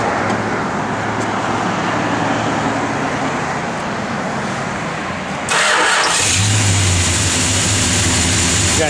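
A 1964 Dodge Polara 500 with a 440 engine sits under a steady roar of road noise, then the engine cranks over at about the midpoint and catches, settling into a loud, close, continuous run.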